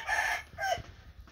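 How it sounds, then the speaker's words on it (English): A rooster crows once close by, a short strained call that breaks into a second rising note, heard alone without any talking. "This is the rooster we are going to raffle off"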